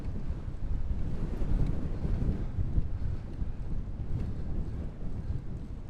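Strong wind buffets the microphone outdoors on an open, exposed stretch near Giethoorn, a loud, continuous low rumbling roar that surges and gusts without letting up.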